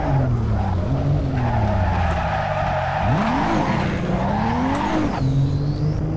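In Assetto Corsa, a 460 hp S15 race car at Ridge Motorsport Park slides into a tire wall with a loud, continuous tire squeal and skid over a wavering, revving engine. No voice is heard.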